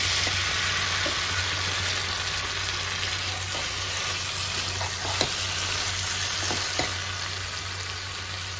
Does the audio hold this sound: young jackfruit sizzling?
yes